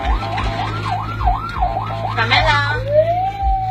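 An ambulance siren wails in rising and falling sweeps, fairly close and loud over a low rhythmic engine rumble, then settles into a long rising tone, with a voice speaking briefly.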